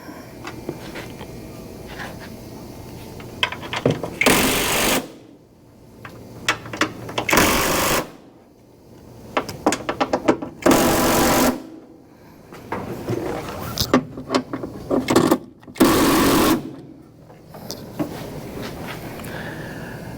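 A torque wrench tightens the cowl panel bolts on a 2018 Mazda 6 in a series of long steady ratcheting runs, separated by short pauses and a few sharp clicks. The sound is close and loud and carries on for the whole stretch, with no talking.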